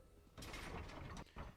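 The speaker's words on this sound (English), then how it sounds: "I did it. Open the door." A mechanical door in the Elder Scrolls Online game grinds open with a faint rumbling, gear-like scrape that runs about a second, then a brief second burst.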